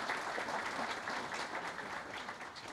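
Steady applause from an audience at a 65th-anniversary event of a Brazilian heavy construction industry association, a sustained dense wash of clapping heard at a distance with no break.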